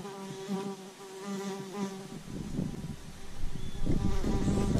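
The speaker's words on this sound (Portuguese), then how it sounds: "Nossa, que abelha." A bee buzzes close to a fisherman at a murky river, a steady insect drone with harmonic bands that swells and grows louder toward the end over rustling outdoor noise.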